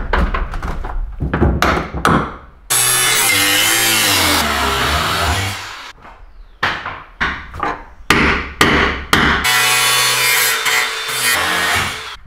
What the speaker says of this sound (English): So, they have to come out with the angle grinder.